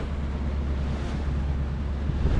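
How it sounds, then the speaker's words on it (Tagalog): Big waves battering a boat travelling from Mindoro to Navotas in stormy wind, a continuous loud rush of churning water and wind gusts with no voices. "Binubugbog na naman kami ng alon."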